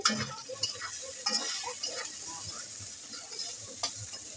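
Katari dried fish frying in oil in a pan while being stirred, with a steady close sizzle broken by scraping stirs at an irregular pace, no voices.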